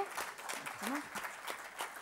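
An audience at a national geologists' congress in Naples claps for the arriving speaker, scattered hand claps heard fairly faint and distant, with a brief voice sliding through early on.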